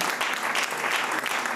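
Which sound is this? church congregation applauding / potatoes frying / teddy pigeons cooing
church congregation applauding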